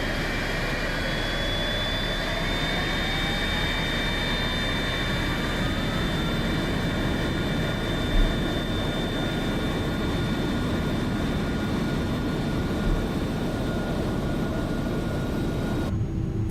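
A steady, continuous jet engine roar from an IniBuilds A300-600R spooling up during startup in Microsoft Flight Simulator, with a faint rising whine over a constant broadband rush, no talking.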